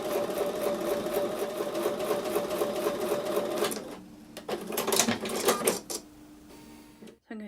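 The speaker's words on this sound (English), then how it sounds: "I'm going to go back over to the sewing machine and sew a 1/4 inch away from the drawn line on both sides of the drawn line." Sewing machine stitching quarter-inch seams on a quilt block, a long continuous run of rapid needle chatter followed by shorter stop-start bursts, close-up and alone.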